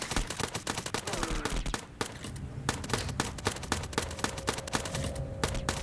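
Rapid-fire gunfire in a mobile strategy video game, dense bursts of sharp repeated shots, loud and close, running almost continuously with only brief gaps.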